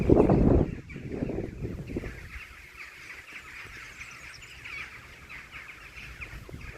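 A massive flock of rooks gathered in village cherry trees, calling as a dense, continuous chatter at a distance, with a louder burst near the start and wind noise on the microphone throughout.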